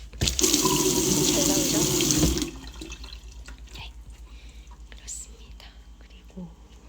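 Tap water gushes into a sink in a resort room at Kensington Resort Jeju Jungmun, loud and close for about two seconds before shutting off, followed by quiet room tone with faint handling noises and soft speech.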